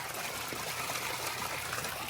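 Water pouring steadily out of a homemade pond filter into an Intex pool used as a fish pond, a continuous close gushing splash with no voices.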